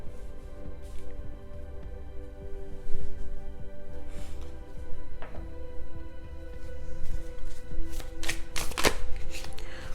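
Tarot cards shuffled by hand in a quiet room, a soft continuous riffling and rustling that builds to sharper snapping flutters near the end, close and fairly faint, with no talk.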